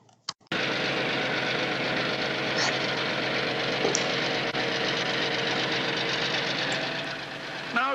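An EMD MP15DC diesel locomotive engine runs steadily with a dense, rumbling drone and slight knocking texture, loud and continuous after a brief quiet start, with no talk over it.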